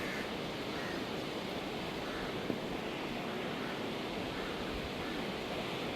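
Floodwater pours past the Vattuvakal bridge after a cyclone, a continuous broadband rushing roar like surf, steady and even throughout with no voices.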